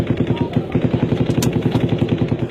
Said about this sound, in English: That's close gunfire.